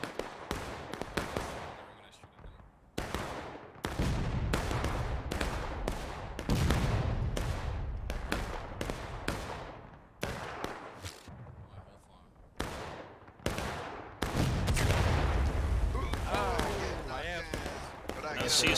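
Musket and rifle volleys crack in a Holdfast-style line battle, with many sharp shots arriving in close ragged bursts. Some are near and loud, others distant, and a commentator talks over much of it.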